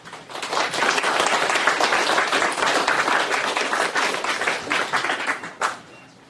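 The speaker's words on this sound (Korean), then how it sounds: "앞에 강연장에 들어오시는 여러분들이 큰 박수로 환영해 주시기 바랍니다" Audience in a lecture hall breaks into sustained applause welcoming a visiting professor to a philosophy colloquium, dense clapping from many hands that tapers off near the end.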